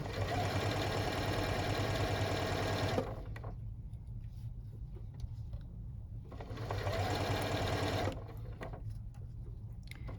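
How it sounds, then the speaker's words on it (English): A sewing machine stitching webbing for a key fob wristlet, two loud steady runs of rapid mechanical clatter separated by a quiet pause, close up and with no talk. "And I'm stitching down one side."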